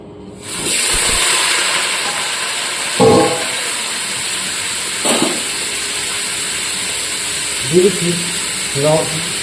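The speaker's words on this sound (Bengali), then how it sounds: "প্রথমে আমি আলুগুলোকে ভেজে নিচ্ছি" Potatoes frying in hot oil in a pan, a steady broad hiss that starts abruptly and holds loud and close, with a few brief knocks and clatters over it.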